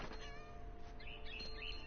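A cat meows in the video game Remains of Edith Finch, a short mewing call over a steady game soundscape with a droning background tone.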